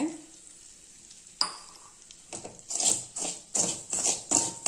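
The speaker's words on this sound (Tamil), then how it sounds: "இப்போ இந்த ரவையை போட்டு கிளறிக்கலாங்க" Wheat rava being stirred and roasted in a pan, starting quiet before a clink, then rhythmic scraping strokes of a spoon through the dry grains, close and steady, no voices.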